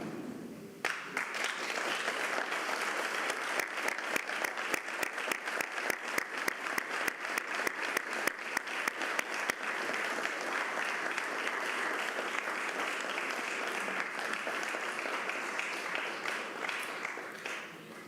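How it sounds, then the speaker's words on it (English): Sustained applause from a large audience at a fire academy graduation ceremony, steady dense clapping that holds for the whole stretch with no voices over it. "you're going to give your families a round of applause"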